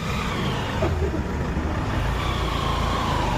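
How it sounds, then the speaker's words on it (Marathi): A vehicle drives off with a steady engine rumble and road noise for a few seconds, a continuous low drone with no talking. "गाईज बघा आता आपली इथून गाडी निघली"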